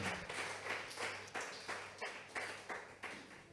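A church congregation claps in praise at a Sunday teaching service, producing a series of rhythmic, roughly evenly spaced bursts of applause about every half second, moderately close and clear.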